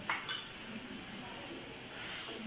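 A spoon clinks against a bowl while spices such as chili and garam masala powder are mixed, a few faint metallic taps early and another near the end over quiet room tone.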